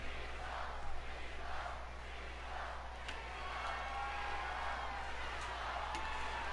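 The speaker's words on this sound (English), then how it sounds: "you hear the crowd chanting Cena's name" A large WWE 2K22 wrestling crowd roars and chants Cena's name in a rhythmic, distant wash under a steady low hum, the cheering swelling in repeated pulses.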